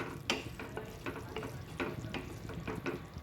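Sambhar tempering stirred in a pan, a soft frying sizzle with repeated clinks and scrapes of a spoon against the pan at an uneven pace, fairly quiet and close.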